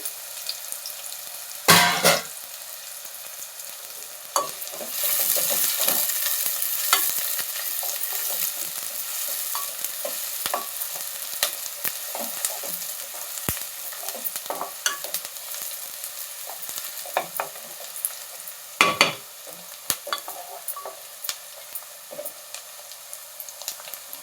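Onions and green chilies frying in a pan, a steady close sizzle running throughout with stirring scrapes and a few louder utensil knocks, no voices heard.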